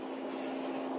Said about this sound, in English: what you hear now are those cooling fans